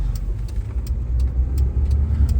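A Nissan S-Cargo fitted with a Daihatsu Move K-car engine pulls away under acceleration, heard from inside the cab as a steady low engine drone with road rumble, short and continuous with no talking.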